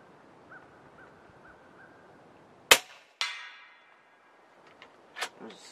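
Snowpeak M60B .357 (9mm) air rifle shots fired at a 65-yard target, one sharp loud crack followed by a second shot moments later and then softer distant impact clicks, with a quiet steady hum before the first shot.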